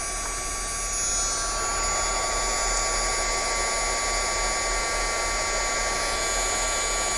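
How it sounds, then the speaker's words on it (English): A heat gun runs on high over a heat-resistant craft mat, making a steady close blowing whoosh with a thin whine that holds level throughout, with no speech. "Turn my heat gun on high."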